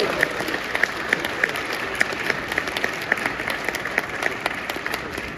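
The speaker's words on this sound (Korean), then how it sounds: "박수를 한번 다시 한번 부탁드리고" An audience claps for a National Assembly member at a Korean political event, steady applause with occasional sharper individual claps popping out, rhythmic and fairly close.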